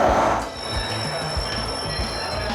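A Florida SunRail commuter train's wheels squeal loudly and continuously, with sustained high-pitched tones over a heavy rolling rumble.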